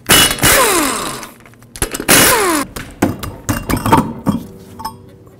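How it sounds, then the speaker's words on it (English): Power tool bursts from removing the five wheel lug nuts with a 19mm socket on a 2006-2011 Chevrolet HHR: two loud whirring runs that wind down, followed by lighter metallic clinks and knocks, close up. "Now remove these 5 lug nuts, also with a 19mm socket, and then we'll take the wheel off."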